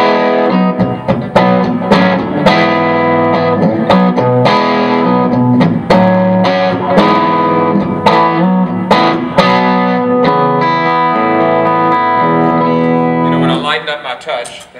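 An electric guitar plays chords through a PRS amp set at volume 5 with light distortion, ringing loud and sustained with reverb before the last chord fades out. Talk is heard over the playing.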